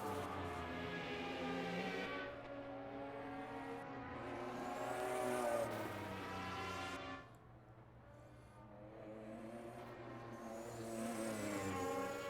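Race cars at the Castrol 1000 roar past on the circuit one after another, engines swelling and fading as they accelerate down the start-finish straight, loud and close.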